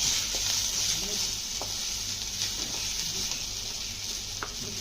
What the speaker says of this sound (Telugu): కొత్తిమీర కొంచెం దోరగా వేయించుకోవాలి.